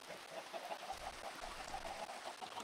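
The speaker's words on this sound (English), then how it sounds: "Oh, another chicken." Chicken clucking in Minecraft, a soft run of short repeated clucks at steady low volume over faint ambient game noise.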